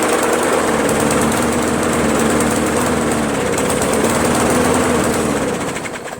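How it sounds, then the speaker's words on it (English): A Craftsman push mower with a 158cc Briggs & Stratton engine running poorly, a loud, close, continuous buzzing drone with uneven rough pulsing throughout, fading slightly at the end. "it's a poor running engine now"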